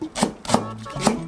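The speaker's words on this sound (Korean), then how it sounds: "이렇게 다져줄게요." Knife chopping and mincing white garlic and the white part of green onion on a cutting board, three crisp, evenly spaced knocks close up, with no talk.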